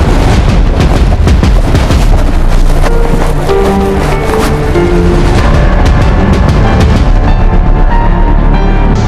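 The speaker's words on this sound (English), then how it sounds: "that is a sound of gunshots fired by the police" Loud, chaotic bursts of police gunfire crack repeatedly over a roaring crowd, the bangs coming in uneven clusters throughout.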